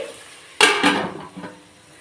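A lid goes onto a cooking pot of mutton biryani with a single sharp metallic clank and a brief rattle as it settles, close and loud, with no voices.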